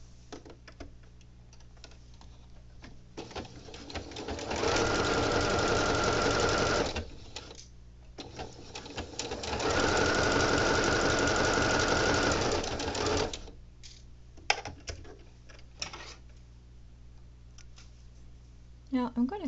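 A sewing machine stitches the shoulder seams of knit fabric in two sustained bursts of rapid, even mechanical whirring and clatter, close and clear, with quiet handling clicks between them and someone talking around the stitching.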